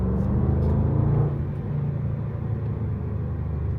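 A supercharged V8 Range Rover engine rumbles steadily from inside the cabin while driving, a deep continuous drone that is slightly louder at first and then settles.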